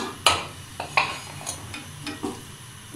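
Fried chicken pieces being stirred into Manchurian-style spaghetti in a pan, giving several scraping, clinking utensil strokes over a faint sizzle, close and fairly quiet with no talking.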